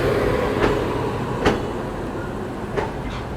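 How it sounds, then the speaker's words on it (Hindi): Chennai Egmore–Kollam Ananthapuri Express train rolling past, a continuous rumble with a few sharp metallic clacks from the wheels, fairly loud and near. "Chennai Egmore Kollam Anantpuri express via Trivandrum."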